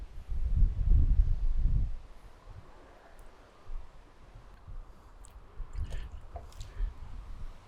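Water poured out of a rain gauge at a weather station, a close, brief liquid splash and squish lasting about two seconds, then quiet trickling and faint dripping.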